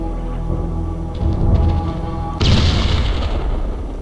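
A grenade blows up in the Sniper: Art of Victory shooter game as a single sharp, loud burst about halfway through, over a continuous in-game rumble and hum.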